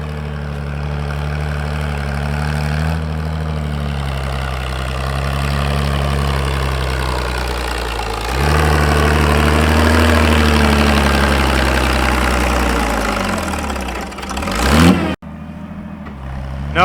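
An older farm tractor laboring up a hill under a heavy manure load in second then third gear, its low engine droning steadily, surging louder partway through, then sputtering and dropping off near the end.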